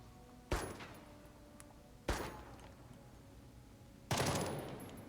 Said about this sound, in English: we're going to allow the enemies to shoot at us